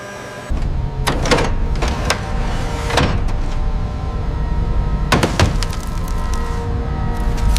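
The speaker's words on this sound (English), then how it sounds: "Proceeding with hydraulic retraction on sequence 3." Hydraulic retraction of salvage equipment during the recovery of an F-14 Tomcat: a loud steady mechanical whine and hum with several sharp clanks and knocks at irregular intervals, no voices.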